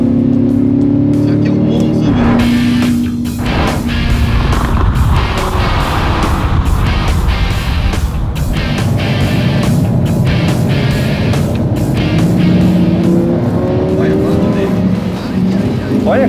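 A sports car, a Lamborghini Huracán or Chevrolet Corvette, driven hard: a loud, continuous engine roar with rising revs and heavy road and wind noise filling the cabin throughout.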